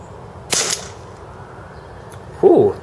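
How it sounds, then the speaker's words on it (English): A Marushin Raging Bull propane gas revolver firing 0.27 gram 8mm BBs, two sharp close reports about two seconds apart, over a quiet background. "This is a gas revolver, not a spring revolver."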